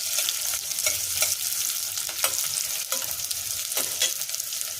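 Dried red chillies sizzle and crackle in hot oil in a pan, a steady close frying hiss with scattered sharp pops and spatters, no voices.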